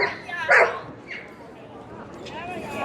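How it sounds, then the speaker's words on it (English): Dogs barking, one sharp loud bark near the start followed by fainter yips and whimpers, with people talking over the scene. "Dogs."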